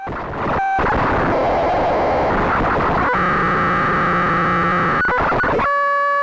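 Harsh, chaotic Benjolin synthesizer noise at audio rate churning loudly, shifting into steady buzzing tones with sharp cuts between sections, continuous and dense.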